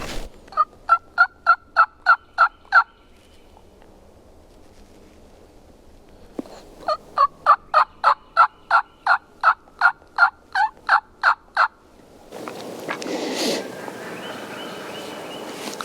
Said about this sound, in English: Might have been a gobbler yelping even.